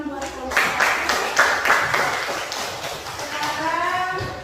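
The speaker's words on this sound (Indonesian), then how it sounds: "kita beri dulu tepuk tangan buat kelompok" Students in a classroom clap for a group, a brief burst of fairly loud applause with some voices mixed in.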